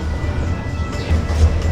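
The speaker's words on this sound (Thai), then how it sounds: "ดูดิรถไฟวิ่งผ่านเมืองฮานอย" A train rolls through Hanoi, giving a steady, loud low rumble with a slight swell near the end, heard without talk.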